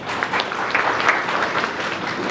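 An audience bursts into steady, dense applause for a film editor at a memorial celebration for a Kannada comedian, a continuous wash of many hands clapping at close range for the whole stretch.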